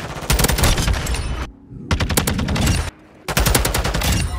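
Taq-56 rifle fire in Call of Duty comes in three rapid, loud automatic bursts separated by brief pauses, each a dense rattle of close shots.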